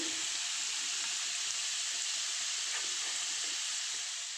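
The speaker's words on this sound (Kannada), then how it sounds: "ಈ ಥರ ಫ್ರೈ ಮಾಡೋಣ ಒಂದು ಫೈವ್ ಮಿನಿಟ್ಸ್ ಬ್ರೌನ್ ಆಗೋವರೆಗೂ" Raw plantain pieces fry in a pan for a palya, giving an even, continuous bright hiss of sizzling oil that holds steady throughout with no voices over it.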